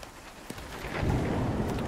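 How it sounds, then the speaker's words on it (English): A hailstorm with thunder in the video game Nightingale produces a steady patter of falling ice and a deep rumble of thunder that swells louder in the second half, with no voices. "We might wait this hailstorm out."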